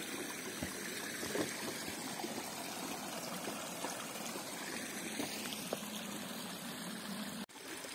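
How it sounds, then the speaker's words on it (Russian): Spring water trickles and splashes steadily through a small wooden dam beside a forest hiking trail in the southern Ural mountains, a close, continuous babble with no one talking. "Очень интересная запрудина из дерева и родничок."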